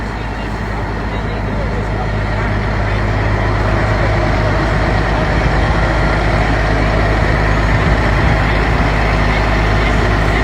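A restored 1986 Kenworth K100 cabover truck with a white-painted Caterpillar engine runs with a loud, steady, low diesel rumble close by, while someone talks over it.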